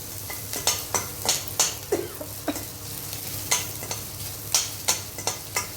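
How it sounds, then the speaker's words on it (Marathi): Onion sautés in a little oil while a spoon repeatedly scrapes and knocks against the pan, sharp irregular stirring clatters over a soft, steady sizzle. "त्याला छान परतून घ्यायचं आहे."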